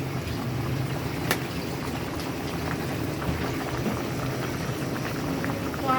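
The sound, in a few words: fish and tomato curry boiling in a pot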